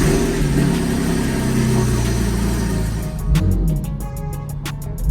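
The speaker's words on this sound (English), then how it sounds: "Starting the car first" Porsche 911 engine turning over and catching, settling into a steady rumbling idle inside the car, with a brief rev and a few sharp clicks near the end.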